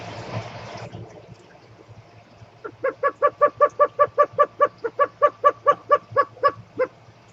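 Unidentified bird giving a weird barking chuckle call, a fast regular series of about twenty loud clipped barks repeated steadily, preceded by a brief rushing noise.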